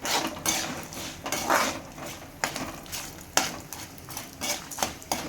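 Urad dal and peanuts fry in a pan for atukula mixture, with a soft sizzle under repeated scraping and stirring clatter from a spoon against the pan.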